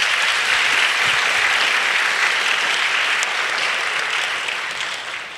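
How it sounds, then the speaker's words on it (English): Sustained applause from a school graduation ceremony audience honoring the Board of Trustees, a dense steady wash of clapping that fades slightly toward the end. "Please join me in giving them a round of applause."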